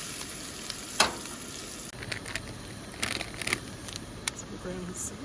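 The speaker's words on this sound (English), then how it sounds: "While the onions and celery are cooking" Onions and celery frying in butter outdoors at a beach car-camping setup, a steady close sizzle and crackle with scattered stirring scrapes throughout.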